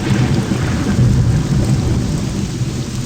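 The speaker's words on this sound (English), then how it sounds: "So it's raining" Rain pours steadily with a low rolling rumble of thunder during a storm in the video game Morrowind, a dense constant wash of sound with no voices.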